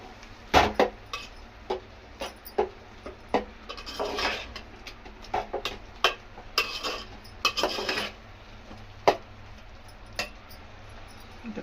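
Spoon stirring and scraping chilli powder and other ingredients together in a metal pot for Maharashtrian-style prawn biryani, a run of irregular clinks and metallic scrapes, close and fairly quiet, with no talking.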